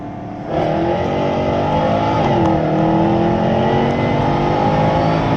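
A stage 3 tuned Jaguar F-Type R with a velocity tune roars hard on a full-throttle pull on a cold day, a loud sustained engine note rising steadily in pitch from start to finish, with no talk over it.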